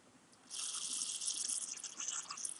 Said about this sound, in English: Spray some carburetor cleaner in.